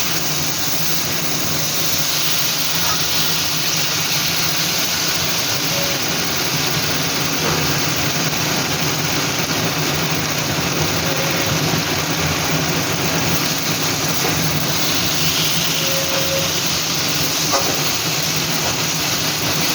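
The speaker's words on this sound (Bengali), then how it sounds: "কাঁচা লঙ্কা একবারে পেস্ট করে এটা দিয়ে দিলাম। নাড়া দিচ্ছি ভালো করে একটু।" Green chili paste, ground with mustard, frying and being stirred in a pan, a steady broadband hiss and sizzle running evenly throughout with no talk.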